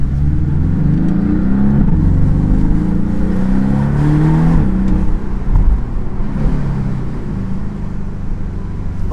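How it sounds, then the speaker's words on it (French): Porsche four-cylinder engine with PDK gearbox accelerating from inside the car, a steady loud drone whose pitch sweeps upward and shifts with gear changes, continuous throughout with no talk. "On entend vraiment le 4 cylindres en fait"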